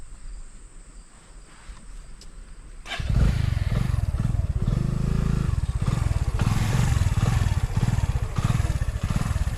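Motorcycles on a bike tour in Khuzdar, Balochistan start up and ride off. After a quiet stretch with insects chirping, loud engine roar suddenly kicks in and continues close and strong.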